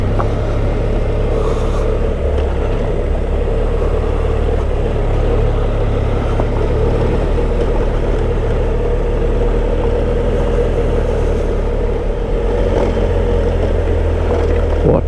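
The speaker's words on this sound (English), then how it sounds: "unless you come round on a motorbike? And it has to be an adventure bike" An adventure motorbike rides along a road through New Zealand's Maruia Saddle, its engine a steady, loud droning hum mixed with wind rush, continuous throughout with no talking.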